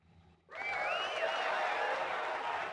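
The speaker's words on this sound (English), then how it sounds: "the bustle of voices reaches my ears. Is that a cheer?" A crowd cheers in the Persona 4 Arena Ultimax video game, a sudden swell of massed voices and applause that starts abruptly and holds steady and loud without talk over it.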